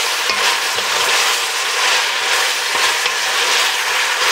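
Bacon fries loudly in a pan on high heat, a dense, constant sizzle with occasional scraping stirs, close and alone without talk.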